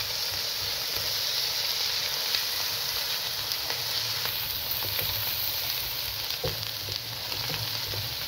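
A steady, close sizzle of garlic and ginger paste frying in a hot pan, continuous hissing with small crackles throughout.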